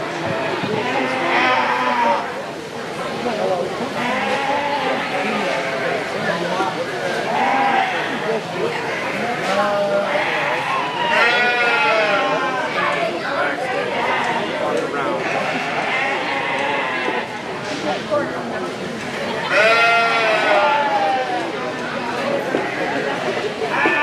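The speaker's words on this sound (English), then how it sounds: "I think we have just 1 February ewe lamb in the Border Leicesters" A Border Leicester ewe lamb and other sheep bleat repeatedly in a livestock show ring during a February ewe lamb class, wavering cries recurring under an announcer's ongoing commentary.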